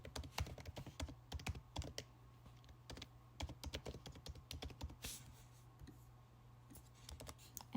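Quick, uneven clicks of someone typing an email address on a computer keyboard, close and fairly quiet over a low steady hum, with short pauses between bursts of keystrokes.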